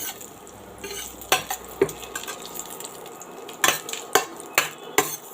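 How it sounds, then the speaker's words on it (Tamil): Cumin seeds fry in melted butter in a pan, giving a soft crackling sizzle. About eight distinct metal spoon clinks and scrapes come in uneven bursts close by, with no talking. "சீரகம் நல்லா பொரியட்டும்."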